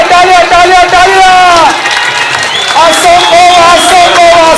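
A crowd claps and cheers at a village kabaddi match, a dense roar of applause and shouting under a loud, excited commentator, with crowd noise filling the whole stretch.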